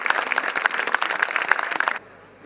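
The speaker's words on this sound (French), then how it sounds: "un tonnerre d'applaudissements" Applause for the winner at a cyclo-cross championship race in Brittany: a crowd clapping steadily and fairly loud for about two seconds, then it stops abruptly, leaving faint background noise.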